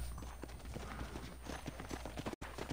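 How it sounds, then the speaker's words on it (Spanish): Horse hooves clip-clopping in the video game Red Dead Redemption's zombie mode, a quick steady run of hoofbeats over low background noise, with a brief whinny-like touch and no talk. "¿Qué caballo tan irrespetuoso?"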